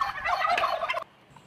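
Turkeys gobble in a poultry farm, a loud, rapid burst of rattling gobbles lasting about a second, then the pen falls nearly quiet.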